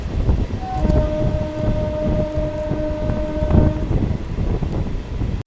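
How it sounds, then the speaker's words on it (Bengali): A Howrah to Belur Math local train picks up speed, its wheels and carriages giving a loud, continuous rumbling clatter, with a sustained horn-like tone sounding through the first part before it fades. "আর আমাদের ট্রেনটা আবারও একটু স্পিড তুললো"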